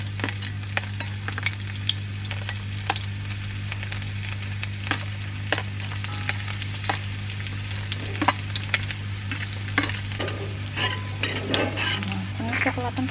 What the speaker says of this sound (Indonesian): kita masukin bawang merah, bawang putih